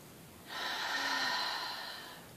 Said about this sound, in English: some good old cleansing breaths. Breathe in, you hold it, and you breathe out